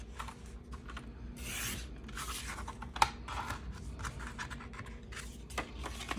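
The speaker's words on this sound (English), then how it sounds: "I think I'm gonna cut this top off." Scissors snip through paper collage fodder in a run of close, crisp cuts and rustling scrapes, with one sharper snap midway, no talking.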